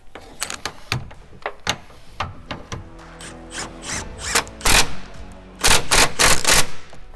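Power tool tightening the straps on a Titan fuel tank during an install on a 2011-2016 GM crew cab short bed Duramax truck, loud close bursts of rattling impact driving in short repeated runs, the longest near the end.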